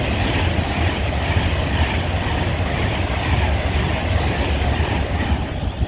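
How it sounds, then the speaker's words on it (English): An Avanti Pendolino train passes through a station at speed, giving a loud, steady rushing roar with a rhythmic clatter of wheels over the rails and no voices. "meanwhile we have an Avanti Pendolino passing through"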